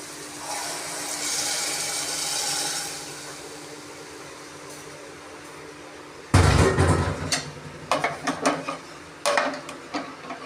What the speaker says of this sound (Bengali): এবার আমি এর মধ্যে দুধটা দিয়ে দেবো।